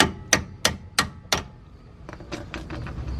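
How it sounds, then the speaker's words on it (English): A hammer tapping on the ends of strut assembly bolts to break them free: four sharp, evenly spaced metallic strikes, then a run of lighter, quicker taps, close and loud with no talking. "I can take a hammer and just tap on the end of that"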